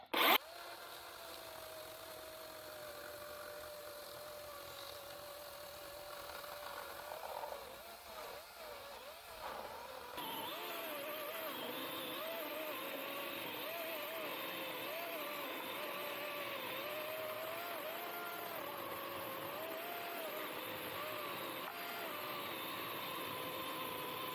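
A DeWalt Flexvolt 20-inch chainsaw runs and then bites into wood, its steady buzzing engine becoming louder and harsher as the cut starts and holding at a constant high pitch.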